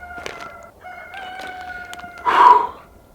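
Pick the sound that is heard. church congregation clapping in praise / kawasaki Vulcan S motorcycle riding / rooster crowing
rooster crowing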